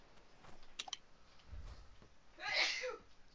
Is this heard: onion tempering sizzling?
no